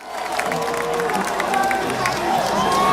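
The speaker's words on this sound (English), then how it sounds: "he got booed as soon as he hopped on stage" A concert crowd booing a rapper as he takes the stage, a dense roar of many voices swelling and holding loud throughout, with shouted calls rising above it.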